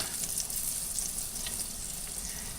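Fat melting in a pan as the base for a roux, giving a steady, even sizzle throughout with no talking.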